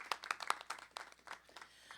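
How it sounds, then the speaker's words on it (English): A round of applause for local veterans' groups at a council or school board meeting, with scattered clapping that peaks in a few sharp bursts early and then thins into a softer patter, fairly faint and without talk. "So let's give them a round of applause for their accomplishments."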